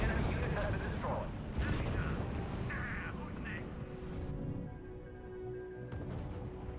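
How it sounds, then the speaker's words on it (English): Anti-tank guns firing in the World War II strategy game R.U.S.E., giving repeated distant thuds and booms over a rumbling battle bed while someone talks over them. "these anti-tank guns are just letting go"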